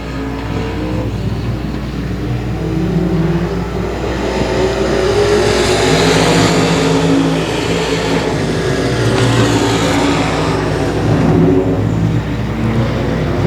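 Race cars lapping the 281 Speedway oval make a loud, continuous engine roar that rises and falls as the field passes close by, with no voices heard.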